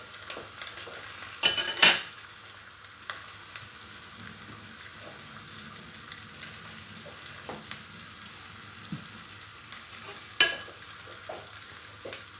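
Garlic and onion sauté in a clay pot (çömlek) for a lamb neck stew, with a soft, steady sizzle throughout and a couple of sharp utensil clanks against the pot near the start and end.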